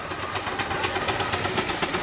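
A 4.5-inch Burrell steam traction engine hisses loudly and continuously at an outdoor steam and country show, with faint rhythmic chuffing beneath the steady roar of escaping steam.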